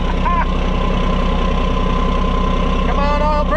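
An old diesel engine idles steadily up close, with an even low throbbing rumble and faint knocking throughout, plus brief higher whines near the start and end.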